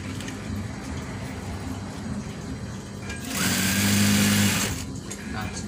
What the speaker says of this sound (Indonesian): Kita jahit lagi.